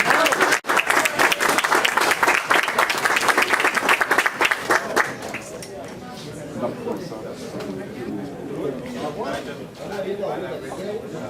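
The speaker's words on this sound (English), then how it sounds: "applaudissez," Audience applause fills a fundraising event hall, loud and dense for about five seconds before thinning into crowd chatter and talk.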